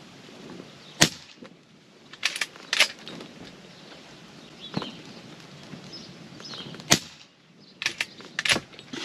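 An Umarex RP5 4.5mm pump-action pellet air rifle fires several sharp, crisp shots at irregular intervals, each a brief loud snap over quiet outdoor background, with some softer clicks between.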